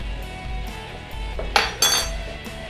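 A metal spoon clinks twice against a dish while a heaping tablespoon of Worcestershire sauce goes into a barbecue sauce for pork ribs, two bright close knocks over a quiet room hum.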